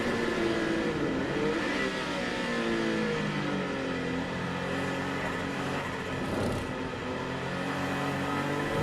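A Jaguar XJ220 3.5-litre twin-turbo V6 running high boost, fitted in a sleeper van, revs hard with rising and falling harmonic engine tones, loud and continuous, no talking.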